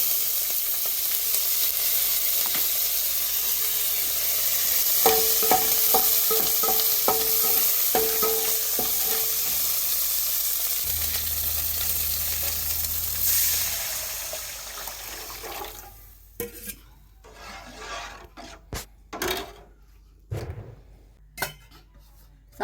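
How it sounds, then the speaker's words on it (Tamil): A sambar tempering of green chili and curry leaves sizzles loudly in hot oil, with spoon-stirring clicks over a steady hiss. It then drops into a quieter stretch with a low rumble and scattered handling knocks. "சாம்பார் தாளிச்சிட்டேன்"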